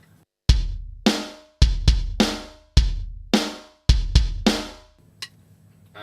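A dry drum groove of bass drum and snare hits with no cymbals or hi-hats, about nine sharp strikes in a steady pattern, close and loud, then stopping.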